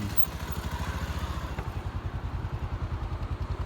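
A motorcycle on a mountain road gives a close, steady, rapidly pulsing engine throb that holds through the whole moment, with a light clatter on top.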